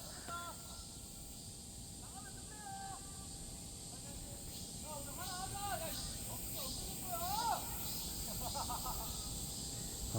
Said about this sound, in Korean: 이 매미 소리도 너무 좋아.